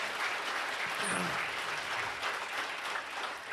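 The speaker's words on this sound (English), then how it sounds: "Well, let's give him a round of applause anyhow, because Joe Gamalia," Audience round of applause at a state police chiefs' association conference, sustained dense clapping from a large room, with faint voices and a brief whistle-like tone in the middle.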